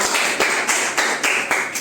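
Family members clap for a happy aunt at a home surprise party, a quick run of sharp, evenly spaced hand claps at close range with no talking.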